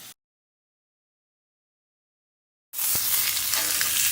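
Shallots frying in a steak pan until crispy: a brief burst of sizzle, then near silence, before a loud, dense, steady frying hiss returns close up for the last seconds, with no talking.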